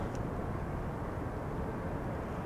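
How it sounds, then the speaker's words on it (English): KLM Embraer airplane landing at Amsterdam Schiphol on runway 18R, a steady broadband roar of jet engines, loud and continuous without breaks. "a little Embraer from KLM"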